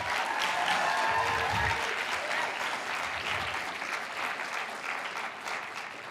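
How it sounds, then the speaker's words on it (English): An indoor audience at a hackathon's final demos claps for the winners, a dense burst of applause that starts strong and tapers slightly as it continues, heard at a moderate distance without talk. "One more round of applause for our winners."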